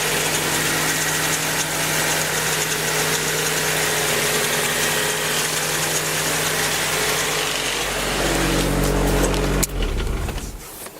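A Nissan S14 being prepped for a drift event idles steadily and loudly up close. Near the end the engine rises briefly, then cuts off abruptly.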